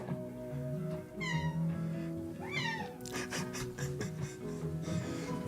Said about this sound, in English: And the cat's on the move